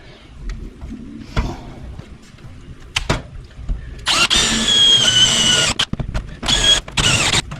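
A power drill whirs in loud bursts, starting and stopping several times, with clicks and knocks of handling between the runs.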